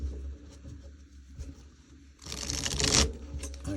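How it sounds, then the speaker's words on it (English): A deck of tarot cards is shuffled close by, with light papery rustling that swells into a louder riffling burst of about a second before easing off. "I'm just going to do a few shuffles because I did pre-shuffle, but it's always good to have a shuffle."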